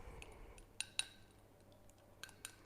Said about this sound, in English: I'm just going to mix it up a little bit.